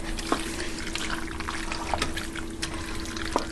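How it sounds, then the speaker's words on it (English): Pasta water trickles and pours into a skillet of penne alfredo in a steady, fairly quiet stream, with a few soft splashes and drips along the way. "I'm going to want to add some more pasta water"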